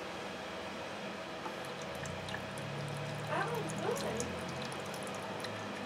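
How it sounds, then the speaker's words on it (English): Water pours into a container holding baking soda for electrolysis rust removal, a steady, soft liquid trickle with faint bubbling close by under a constant background hiss. "So first I'm gonna add a little bit of water."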